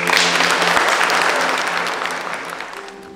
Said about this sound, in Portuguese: por isso lhe damos uma salva de palmas